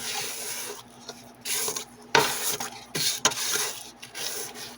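An electric stand mixer creams French vanilla pound cake batter in a bowl, giving a steady low motor hum under a soft, continuous rubbing, scraping texture with a few brief louder knocks.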